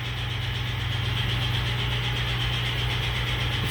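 A Doall 12 by 18 inch horizontal metal cutting bandsaw with hydraulic clamp and raise runs at a steady, loud mechanical drone with a low hum and constant high hiss throughout, with no talking.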